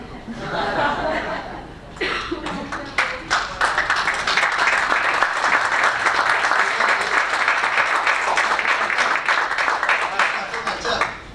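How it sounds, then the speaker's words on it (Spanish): Sustained applause from a crowd at a law conference panel fills the room, with some scattered laughter and chuckling at the start before the clapping swells and continues. "Me echan a los aplausos."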